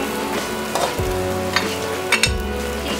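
Liver, kikiam and chicken sauté in a hot pan for pancit lomi, a steady close sizzle and fry with a few sharp spatula scrapes and stirring clatters over it.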